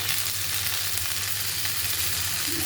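Shashlik skewers frying in a pan in a home kitchen, a steady, loud, close sizzle with no talking over it.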